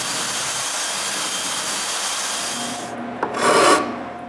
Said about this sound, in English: Roundovers here and there are not perfect. I fix that with a rasp.